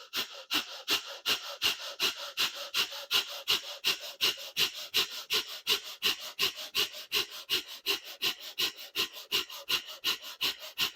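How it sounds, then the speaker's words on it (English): Breath of fire, rapid yogic breathing done with one leg raised in a yoga class, about three forceful nasal exhalations per second in an even, unbroken rhythm, loud and close with no talking. "we're gonna do breath of fire."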